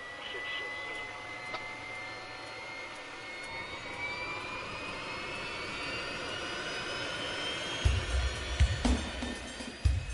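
Jet engines of an Ilyushin Il-62M airliner on LOT flight 5055 spool up during start, a rising whine climbing steadily over a broad roar, with a few heavier thumps and rumbles toward the end.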